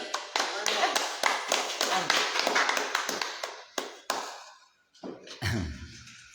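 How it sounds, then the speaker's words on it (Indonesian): An audience claps in a dense burst of applause that thins out and fades, followed by a few scattered sounds. "Tepuk tangan sekali lagi loh."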